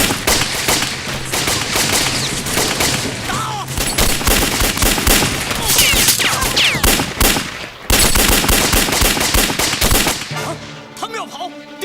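Loud, rapid bursts of gunfire and machine-gun fire crackle in an anti-Japanese war spy drama, dense volleys overlapping almost without pause before tapering off.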